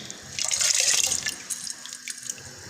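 Water splashes steadily into a cooking pot of soaked mixed lentils for dal, a close, hissing pour with a few drips at the end.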